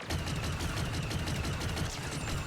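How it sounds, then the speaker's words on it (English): Rapid blaster and gunfire from a Star Wars Battlefront 2 multiplayer match, a dense continuous volley of repeated shots with no pauses, loud and sustained throughout. "The heck is shooting us?"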